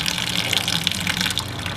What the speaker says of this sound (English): the wort will get well aerated going through the strainer.